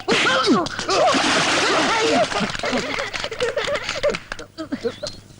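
Water splashes and churns noisily at first, then fades under several excited voices talking and calling out close by.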